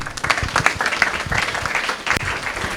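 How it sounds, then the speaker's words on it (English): A small audience at an international center community evening claps, giving scattered, uneven hand claps close by, with some louder individual claps standing out. "please give her a round of applause."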